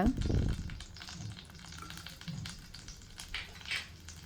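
Urad dal, mustard seeds and curry leaves crackle and sizzle in hot oil for a simple onion rice, with sputtering pops and soft spattering bursts, close and fairly quiet.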